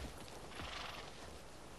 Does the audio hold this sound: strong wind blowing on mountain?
no